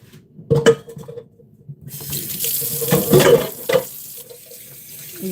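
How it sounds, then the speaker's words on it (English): Tap water runs into a kitchen sink for washing up baking tins after making a Christmas fruit cake, a close splashing stream with clinks of dishes, starting midway after some quieter handling sounds. "I'm just gonna add some water onto that so it's easier to wash up."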